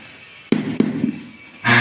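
Textured 23.5 x 120 cm tiles are tapped into place during a home tile installation, giving two sharp close knocks followed by a louder thud and noise.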